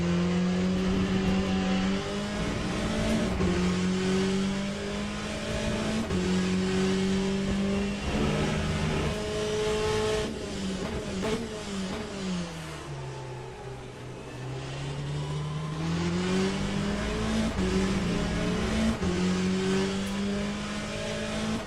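Corvette C8.R race car engine in the Le Mans Ultimate racing sim, a loud continuous onboard drone that climbs through the gears, drops sharply under braking around the middle and winds back up, with no talking.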